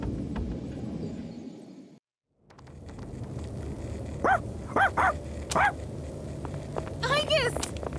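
A human voice actor imitates a dog's barking in the video game Persona 3 Reload, giving several short, sharp yelps in a rapid cluster over game music and ambience, followed by a quicker run of higher-pitched yaps.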